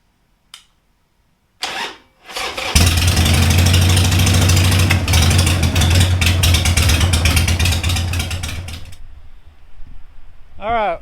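A 1200cc custom Harley-Davidson motorcycle with a rebuilt front cylinder cranks briefly a couple of times, then catches and settles into a loud, steady, lumpy idle for several seconds before cutting off, with a brief whistle-like sound at the end.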